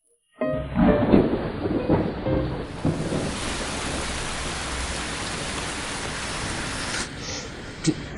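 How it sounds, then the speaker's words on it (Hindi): Heavy rain starts suddenly and settles into a dense, steady roar of downpour, loud and close, with a few sharper spatters early on and no speech. "बारिश क्यों हो रही है? आज भारी बारिश की चेतावनी थी।"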